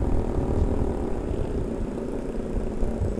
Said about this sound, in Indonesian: Wih, knalpotnya Sam ini nyembur.